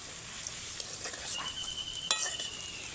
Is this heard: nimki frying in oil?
yes